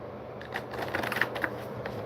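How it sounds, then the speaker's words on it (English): Shuffling of a handmade tarot card deck: a soft, continuous riffling and flicking of cards, close and moderately quiet, with a few sharper snaps around the middle. "let me give it a quick shuffle"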